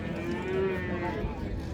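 A Friesian cow lows at a rural cattle market in Dinajpur, one drawn-out moo at moderate distance against a murmur of market background.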